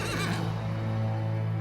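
Horses loaded in a horse trailer whinny loudly and close, one long shaky neigh dominating at the start and trailing off, with a faint thump of hooves.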